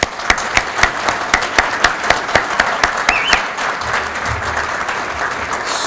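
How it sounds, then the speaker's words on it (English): Audience applause at a county economic development annual meeting, a steady burst of many hands clapping throughout with sharp individual claps standing out near the front, sustained at even loudness without talk. "I'd ask for a large round of applause for all of them."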